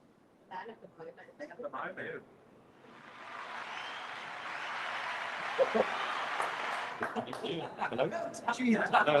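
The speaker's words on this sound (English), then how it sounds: "The crowd clapped." An audience at a housing policy presentation claps after a speaker is welcomed, with a steady burst of applause lasting about five seconds between stretches of nearby talking.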